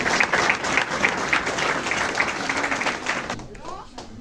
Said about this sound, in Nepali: हामी ताली बजाउनेछौँ।